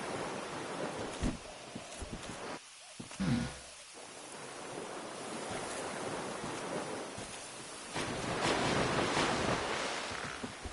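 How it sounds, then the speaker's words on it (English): Water waves in the Valley of Drakes area of the Dark Souls video game make a continuous rushing, surf-like wash with wind, swelling louder near the end, with a brief low thud partway through. "Oh, there's water right there."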